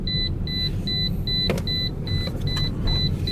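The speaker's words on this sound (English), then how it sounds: "this beeper's wrecking my whole video" A car's seatbelt warning chime beeps about eight times in a steady, evenly spaced rhythm, sounding clearly over the low rumble of the car driving on the road.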